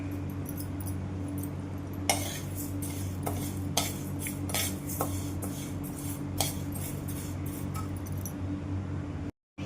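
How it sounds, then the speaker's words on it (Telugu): A metal utensil scrapes and clinks repeatedly against a pan as urad dal is roasted and stirred, sharp irregular taps over a steady low hum, with no one speaking. "ఇప్పుడు మనం మినపప్పు వేసుకుందాం. ఇది కూడా సిమ్లో పెట్టుకొని మాడకుండా వేయించుకోవాలి."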